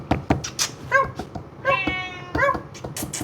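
Pet cat meowing several times close by, short rising cries in a loose rhythm, with a person's voice and handling noises around them.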